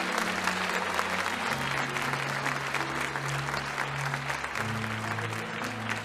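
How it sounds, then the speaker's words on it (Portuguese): A church congregation applauds vigorously, a thick continuous roar of clapping heard close, with a sustained low organ or keyboard chord playing underneath and shifting pitch midway. "Você pode aplaudir a Jesus com força por essas vidas."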